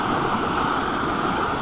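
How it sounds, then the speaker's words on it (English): Rushing floodwater roars in a steady, dense, loud wash across the grasslands, heard close and alone. "That is what you call rushing water."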